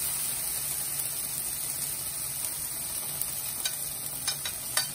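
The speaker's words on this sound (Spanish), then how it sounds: "En el mismo sartén que ocupamos, ahí le quedó un poquito de grasa y primero voy a añadir la cebolla." Chopped onion fries in a frying pan in a little leftover fat from cooking chicken and potato patties. It gives a continuous close sizzle, and a few light scrapes and ticks come near the end.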